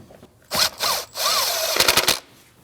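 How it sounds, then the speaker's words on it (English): A 10mm bolt being driven down on a Jeep Cherokee 2.4L air filter box, short bursts of rapid ratcheting or power-tool whirring with a few clicks, close and fairly loud, with quiet gaps between. "Put your 10mm bolt back in and tighten that down."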